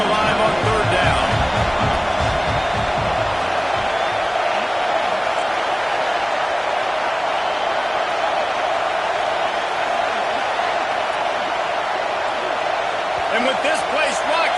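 Loud stadium crowd roar in an NCAA college football video game, a dense continuous wash of cheering and noise during a third-down drive, with a few sharp thumps near the start.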